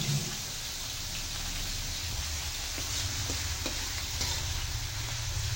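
Shrimp sizzling in a hot pan while being stir-fried for bihon guisado, a dense steady frying crackle with faint stirring clicks throughout.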